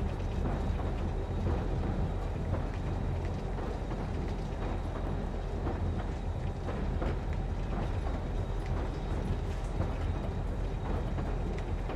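A train in the survival video game Rust rumbles steadily with a continuous low mechanical roar and faint rattling, constant in level throughout with no talking.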